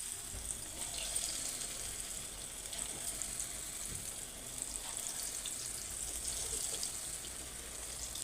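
Potato bajji fritters coated in chickpea flour batter fry in hot oil, giving a steady, dense sizzle and crackle that runs unbroken at moderate loudness.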